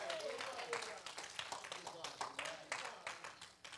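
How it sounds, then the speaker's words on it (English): A church congregation at a Tuesday night Bible study claps in praise, rapid overlapping handclaps filling the room at moderate loudness, with a voice speaking briefly over the start. "Give God another hand clap of praise."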